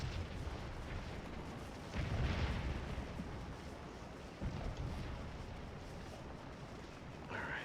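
Artillery and gunfire in the Scourge of War battle game rumble on continuously, with heavier booming bursts at intervals over a crackling, roaring background of distant battle.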